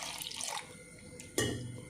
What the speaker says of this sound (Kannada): ಮಿಕ್ಸಿದ ಜಾರಿಗೆ ಒಂತೆ ನೀರು ಮೈತದು